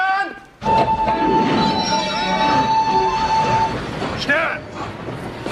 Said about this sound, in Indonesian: gerbong kereta yang baru saja akan berangkat dan sudah berjalan